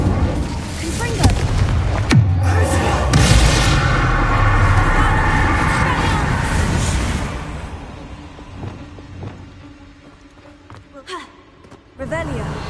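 Confringo spell blasts in Hogwarts Legacy burst loudly among heavy rumbling explosions, then fade into quieter crackles before a final sharp pop, with a voice speaking over the action.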